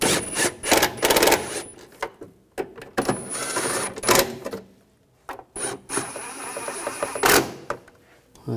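Tightening bolts on the transmission mount of a 2013-2019 Ford Escape 2.0L, a series of quick ratcheting and clicking bursts with pauses between them, close and fairly loud, with no talking.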